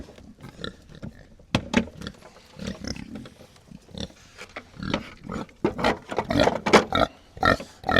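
Boars in a farm pen grunt, snort and squeal repeatedly up close, a busy overlapping run of loud pig calls with short pauses between bursts.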